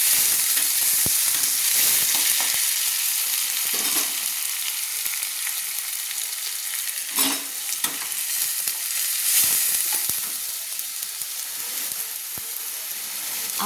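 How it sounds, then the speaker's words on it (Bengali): Onion paste sizzles and fries steadily in a hot pan while being stirred for a ghugni recipe, with scraping strokes of the spoon breaking through the constant crackle. "সেই পেস্ট করা পেঁয়াজ আমি দিয়ে দিচ্ছি। দিয়ে ভালো করে নেড়ে নিচ্ছি।"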